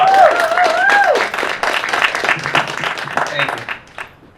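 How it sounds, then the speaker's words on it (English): An open mic audience claps for a speaker as he comes to the mic, a short burst of applause with excited voices and whoops on top that fades after a few seconds. "Give him a round of applause."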